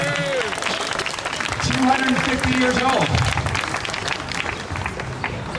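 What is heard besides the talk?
applause at Memorial Day ceremony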